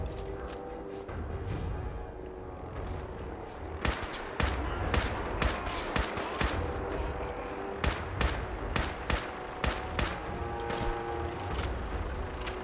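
Rapid bursts and single shots of gunfire from Fallout 4 combat, a steady run of sharp cracks that grows more regular and punchy in the second half, with no talking.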